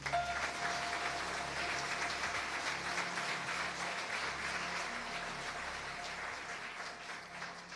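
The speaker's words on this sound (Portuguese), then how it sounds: "Vamos aplaudir Jesus." A church congregation claps together in a sustained round of applause, fairly faint and steady, gradually easing off toward the end, with a low hum in the room.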